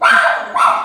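Dogs shut inside a house barking, two sharp, loud close barks in quick succession.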